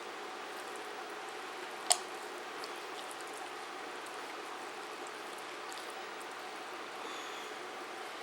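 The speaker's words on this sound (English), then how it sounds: "I got to get in here with my hands and mix this all up" Hands squish and knead a wet meatloaf mix of ground meat with onions, peppers, egg, salsa and sriracha, soft faint squelching over a low steady hiss, with one sharper wet squelch early on.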